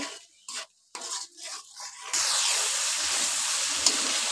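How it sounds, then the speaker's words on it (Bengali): Spice masala of turmeric, chili and salt frying and being stirred in a pan; a few scraping bursts give way to a steady, close, loud hiss of sizzling that runs to the end. "মশলাটা ভালোভাবে কষিয়ে নেব"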